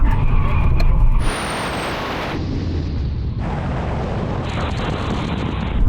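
A Nissan car brakes hard in an emergency stop during a brake test, its tires locking up; a loud, close, sustained roar of tire and road noise shifts in tone several times.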